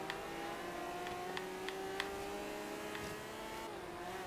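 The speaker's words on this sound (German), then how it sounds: "Der Sound, ne? Der Zwölfzylinder." V12 sports car engine in the Forza Horizon 3 racing game, a steady high whine under sustained load with slowly shifting pitch and occasional short clicks, heard moderately loud with no talking.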